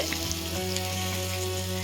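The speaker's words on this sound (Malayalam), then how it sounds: "ഞാൻ എന്താ മീൻ പൊരിക്കാൻ വെച്ചിട്ടുണ്ട്" Steady, close sizzling of fish frying in hot oil, a continuous crackle with faint pops.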